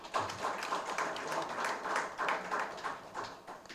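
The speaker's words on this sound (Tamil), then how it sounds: "கைதட்டுங்க." An audience clapping at a Tamil poetry competition speech: steady, moderately distant applause from many hands, continuous and even throughout.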